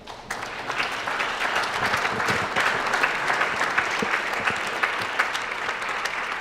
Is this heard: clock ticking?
no